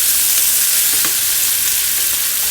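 Tomatoes cooking in a pan with a creamy sauce beside seared salmon, giving a loud, dense, continuous sizzle with a faint stir or two and no talk.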